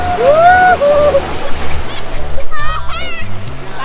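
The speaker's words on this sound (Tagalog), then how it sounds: "Malakas yung alon, malakas." Strong sea waves wash and splash continuously on a white-sand beach at a resort in Nasugbu, Batangas, a loud rushing roar under people talking nearby, including a voice.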